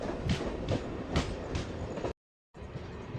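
Slow-moving MEMU train pulling into Tanuku station, with a continuous rail rumble and regular clickety-clack beats from the wheels, interrupted by a brief dropout before the rumble resumes.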